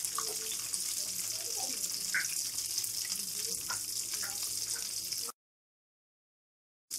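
Egg kababs fry in oil with a steady, close sizzle that fills most of the moment, then stops abruptly into silence.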